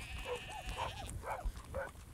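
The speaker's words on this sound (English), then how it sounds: "keep the sheep on the road" A flock of sheep being herded along a road bleats in short, overlapping calls, fairly faint and spread across the scene.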